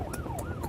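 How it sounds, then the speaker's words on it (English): An ambulance siren running on blue lights wails in a rapid rising-and-falling sweep, repeating about every quarter second, loud and close over road noise with no talk. "We're coming on blue lights and sirens"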